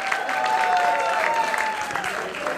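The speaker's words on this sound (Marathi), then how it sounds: "टाळ्या झाल्या पाहिजेत सगळ्यांकडून" Applause from an audience at a prize-giving ceremony, a dense, steady patter of many hands clapping for the whole stretch, with a sustained tone running underneath.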